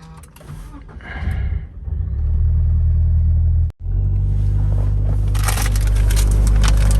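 Low engine rumble inside a Toyota GT86, loud and steady, with a brief dip to near silence midway before the drone resumes and a brighter hiss rises near the end; no speech.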